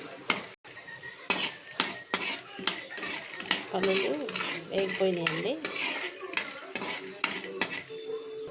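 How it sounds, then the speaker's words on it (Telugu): Peanuts frying in hot oil in a pan while being stirred, a soft sizzle under repeated sharp metal clinks and scrapes of a utensil against the pan, close and busy throughout. "పల్లీలు వేగుతున్నాయండి"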